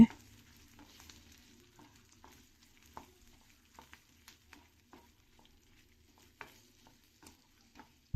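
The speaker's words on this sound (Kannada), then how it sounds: "ಇಷ್ಟನ್ನು ಚೆನ್ನಾಗಿ ಫ್ರೈ ಮಾಡ್ಕೋಬೇಕಾಗತ್ತೆ" Grated coconut and roasted gram frying in a pan for chutney, quiet and close, with faint sizzle and scattered soft taps and scrapes of a spatula.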